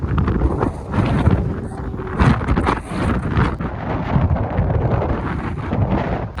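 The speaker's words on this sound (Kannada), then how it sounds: "ಗಾಳಿ ಅಲ್ಲ ಸುಂಟ್ರು ಗಾಳಿ" Strong, gusty whirling wind on a high hilltop peak roars and buffets the microphone continuously, with rising and falling blasts and no voices.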